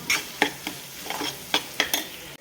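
Onion, tomato, cumin and mustard seeds fry in a pan under a soft sizzle, with about six crisp scraping stirs of a spoon at a loose, uneven rhythm, close and moderately quiet.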